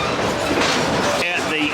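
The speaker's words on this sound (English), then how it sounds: "The diesel locomotive" Diesel locomotive of the Great Smoky Mountain Railroad train, heard from aboard as a steady rolling rumble with rail clatter, a brief wheel squeal near the end, and faint voices in the background.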